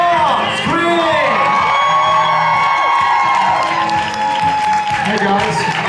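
Loud convention crowd at a Supernatural fan event in Rome screaming, whooping and cheering continuously, dense and close, with a few shouted voices mixed in.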